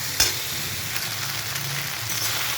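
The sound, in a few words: stirring Maggi noodles in a frying pan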